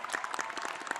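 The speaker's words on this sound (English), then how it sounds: "let's give a round of applause to the ambassadors" A conference crowd applauds the ambassadors at a closing plenary session, a steady round of clapping close by with no talk over it.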